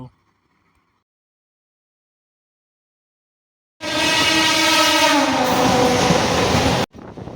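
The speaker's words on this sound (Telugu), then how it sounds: "ఇప్పుడైతే శివరాంపల్లి నుంచి అయితే ట్రైన్ స్టార్ట్ అయింది" A Hyderabad MMTS local commuter train runs from Shivarampally after a near-silent stretch, its loud, steady rumble heard from inside a second-class general coach, with a sustained horn-like tone over the top.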